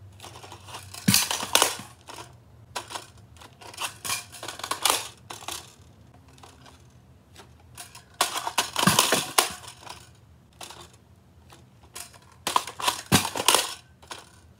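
Foam darts being reloaded into an Adventure Force Spectrum toy blaster, a series of close plastic clicks, rattles and clacks in bursts, with louder clusters near the middle and end and quiet gaps between.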